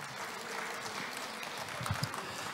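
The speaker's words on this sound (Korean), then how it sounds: "박수 한번 쳐주실랍니까?" An audience at a literary conference applauds at a moderate distance, a steady patter of clapping that continues throughout.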